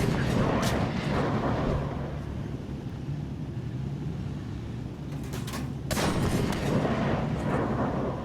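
Tank cannon shell striking an enemy tank in a video game, heavy booming impacts with a rumbling tail, a sharp blast near the start and another burst of cracks later, no talk over it.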